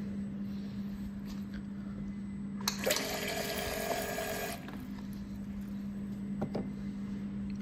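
A single head aqueous filling machine dispenses liquid in a bright, hissing rush of about two seconds, set against a steady low motor hum that runs before and after the fill.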